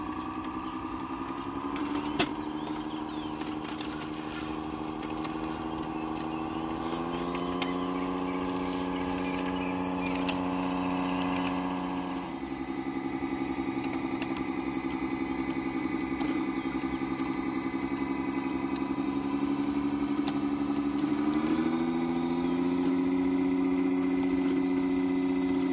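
The engine of a remote-controlled combine harvester in a large rice field hums steadily and close up, with a clear tonal drone whose pitch steps up slightly a few times as the revs change; no talking.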